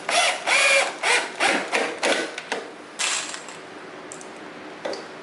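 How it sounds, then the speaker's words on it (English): A pocket screw, 1.5 inch, is driven through a walnut coffee table apron into the leg. A driver buzzes in a run of short whirring bursts, then settles into a steadier, fainter hum, close and with no talking. "I will screw this Craig screw in through the apron and into the leg."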